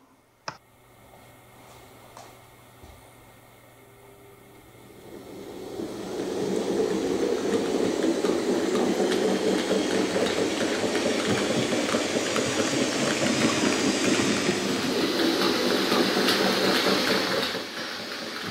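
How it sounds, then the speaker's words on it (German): A Fleischmann model V60 locomotive hauling a mixed passenger and goods train starts rolling, its steady rattling and clicking on the rails swelling after a few quiet seconds and continuing close by. "Dann fährt der Zug nach Laaten aus"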